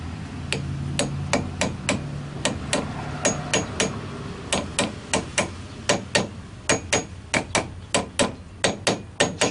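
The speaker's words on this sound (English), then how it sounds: "slowly I'm gonna hammer the outsides." Repeated metal hammer strikes ring out in steady bursts, sharp and close, some quick pairs and runs, with brief pauses between groups, as a bearing is hammered into a water-cooled alternator from a BMW X5.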